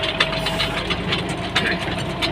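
A New Holland 7740 tractor's diesel engine runs steadily up close, with a rhythmic knocking chug throughout and no talking.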